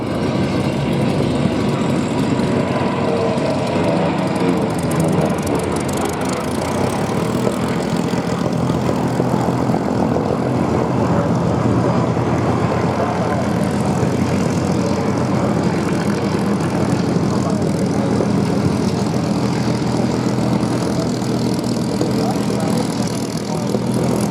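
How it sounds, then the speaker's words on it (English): Two WWII Corsair fighter planes fly at the Duxford Flying Legends air show, a steady droning piston-propeller roar heard throughout at moderate distance with crowd and commentary in the background. "And here come the two Corsairs."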